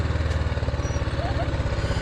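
A motorbike rides through the Kishangarh dumping yard, its engine running steadily and close by with an even, throbbing pulse the whole time, and no one speaks.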